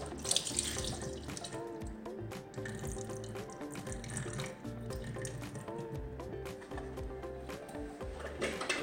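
Water runs steadily from a kitchen sink tap while canned black beans are drained, a continuous close splashing rush with some dripping, no talk.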